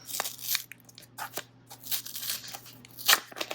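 Paper packaging on a Samsung Galaxy Tab S9 FE Plus tablet box being opened: several short bursts of tearing and crinkling paper, close and fairly quiet, with a steady low hum underneath.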